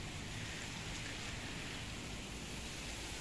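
Heavy rain falls at midnight in Jeddah, a dense, steady hiss of downpour on surfaces, even and unbroken throughout with no voices.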